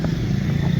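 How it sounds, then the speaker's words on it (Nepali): A Royal Enfield Bullet motorcycle idles nearby with a low, steady thumping engine rumble in a brief, continuous burst. "royal Enfield bullet"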